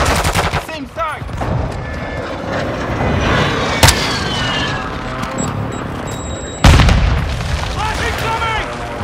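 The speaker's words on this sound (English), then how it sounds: "Enemy precision airstrike. Find cover." Loud airstrike explosions in a first-person shooter game, with sharp booms and heavy gunfire over continuous battle noise, and a voice calling out in game.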